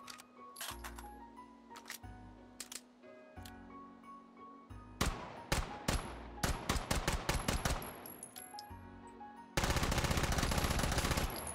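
A gun fires in the VR shooter Hot Dogs, Horseshoes & Hand Grenades, first as spaced single sharp shots with mechanical clacks, then as rapid bursts and a dense sustained volley near the end.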